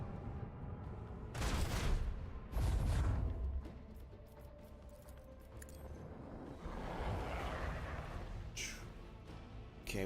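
Macro cannons fire in the Warhammer 40,000: Rogue Trader game as two heavy, loud booming volleys in close succession, followed by rumbling battle noise and a later burst of crackling fire.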